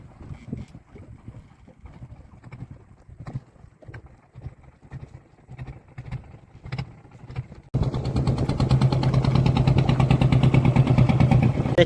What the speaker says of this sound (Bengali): একটা মাছের নৌকা এক্ষুনি মাছ ধরে ফিরে আসলো।